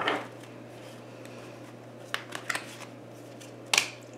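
Tarot cards are shuffled by hand in a quiet room, giving a soft riffling burst at the start and then a few sharp flicks and snaps as cards land, over a faint steady hum.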